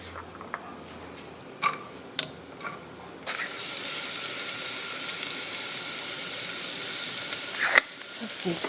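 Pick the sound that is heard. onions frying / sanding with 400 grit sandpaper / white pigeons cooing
onions frying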